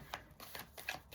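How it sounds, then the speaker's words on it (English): A deck of playing cards shuffled by hand in several quick rustling bursts, close and fairly clear, with brief pauses between them and no talking. "So I'm going to start shuffling, going to ask the first question."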